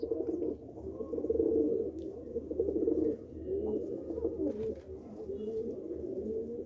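A pigeon coos repeatedly in a loft, low rolling throaty calls in close, rhythmic bursts that carry on steadily throughout.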